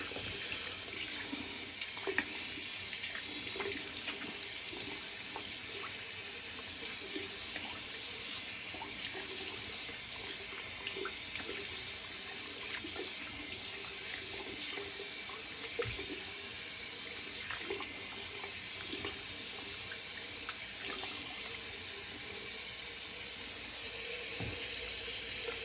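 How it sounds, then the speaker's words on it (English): A bathroom tap runs steadily for a cold water rinse after shaving with a double edge safety razor, a continuous hissing stream of water without pause or talk. "All right, cold water rinse."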